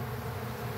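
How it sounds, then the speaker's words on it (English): Honeybees swarm loudly at an open hive during an inspection, a dense, steady buzzing drone that fills the whole short moment without pause. "you hear the intensity of the buzz"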